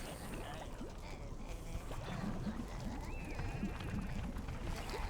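Sheep bleat in the Overlord video game amid a busy, rumbling game soundscape, several short wavering cries scattered over a few seconds, fairly faint under the background noise.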